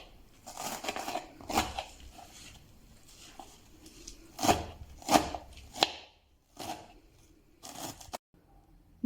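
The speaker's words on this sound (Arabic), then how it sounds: "انا غنقطع البقوله على هذا الشكل" Mallow (bqoula) leaves are chopped by hand in a home kitchen for a Moroccan couscous dish, giving several separate crisp knife cuts in an uneven rhythm, close and fairly soft, with short pauses between them.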